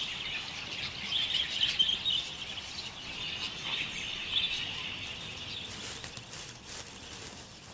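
Budgies chirping and calling in a steady, fairly faint chorus of high twittering notes, continuous throughout with a light background patter.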